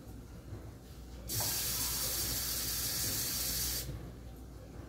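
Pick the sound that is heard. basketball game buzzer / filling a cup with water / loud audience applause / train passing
filling a cup with water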